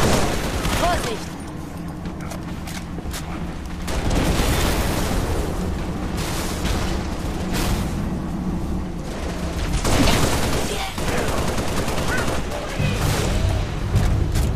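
Sustained gunfire and heavy blasts from a Halo Reach battle roar loud and dense for the whole stretch, with sharp bursts and booming impacts while voices call out over the combat.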